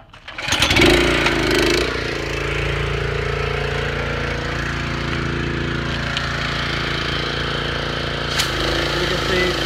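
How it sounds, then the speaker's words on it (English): A pressure washer's gas engine fires up after a brief pull, then settles into a steady, loud, droning idle that runs on alone without letting up. "I'm going to start one up first and then we'll start the second one up"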